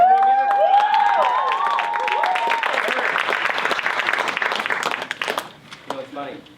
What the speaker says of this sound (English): So I told them that they had to clap really, really loud.